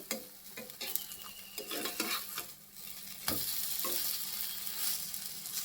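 Food frying in a pan with a bright, steady sizzle while a spatula stirs and scrapes in quick repeated strokes, then the frying hiss swells louder and continues alone.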